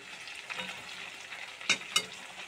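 Chicken being sautéed with stone-ground spices in a covered pan gives a quiet, steady sizzle with two sharp metallic clinks of the lid or spoon, no voices.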